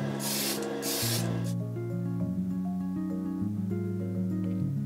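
A spray can sprays semi-gloss clear coat onto a brush-painted Gunpla model: two short hissing bursts, close and loud, over steady background music.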